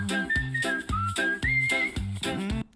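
A bright, clean whistled melody carries high notes within an a cappella vocal group song, each phrase landing over low sung harmonies in a steady rhythm before cutting off abruptly.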